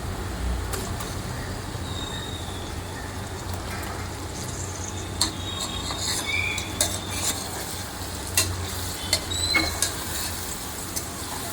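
Washed chicken pieces are stirred with salt in a pot for chicken pulao, making a continuous wet churning with occasional utensil clinks, steady and close without speech.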